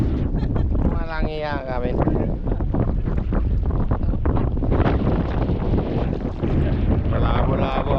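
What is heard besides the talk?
strong wind blowing by the boat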